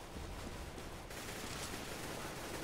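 Gunfire from a Counter-Strike match in a 2015 World Championships Oceanic qualifier, Australia against New Zealand, sounding as a dense, continuous burst of shots that holds steady and loud throughout, with no talk.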